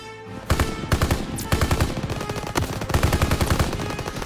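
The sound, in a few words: machine gun firing in Call of Duty video game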